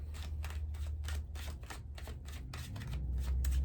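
Tarot cards being shuffled by hand, a rapid run of crisp riffling flicks repeating in quick rhythm, close and fairly quiet, with no talk over it.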